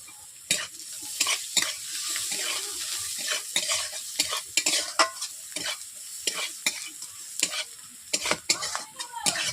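Onions with turmeric and chili powder fry in a pan for a Bengali fish curry, a dense close sizzle punctuated by quick, frequent spatula scrapes and stirs, with no talking.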